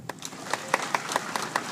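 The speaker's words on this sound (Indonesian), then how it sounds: "tepuk tangan dulu." Scattered audience clapping at a wayang performance event, a handful of distinct, fairly faint claps in an irregular rhythm over a low room murmur.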